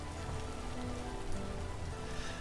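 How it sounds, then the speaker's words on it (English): Steady rain falls in the Vintage Story video game, a continuous, even patter of drops hitting surfaces with no talk over it. "It is raining here. It always rains here."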